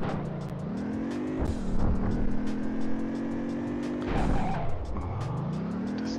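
A car in the video game Driver 2 revs and shifts through gears while driving around Rio. Its tires squeal and skid in two long slides, and the engine rises and falls up close and loud.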